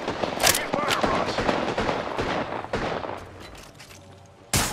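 Rapid gunfire from a shooter game: a close, loud run of repeated shots and bursts that thins out toward the end, then one final sharp blast. Faint game voices sit in the mix.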